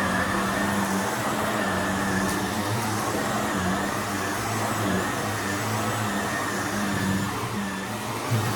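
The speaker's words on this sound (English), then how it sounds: "I did do some sweeping from the kitchen right on in here because I'm going to vacuum." A vacuum cleaner runs over carpet with a loud, steady, continuous drone and no pauses or talk throughout.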